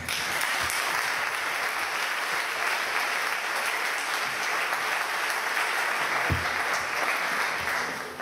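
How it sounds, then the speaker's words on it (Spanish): Steady audience applause fills the room at a PechaKucha Night event in Ferrol, dense and sustained throughout with no talk over it, fading slightly at the end. "Un aplauso."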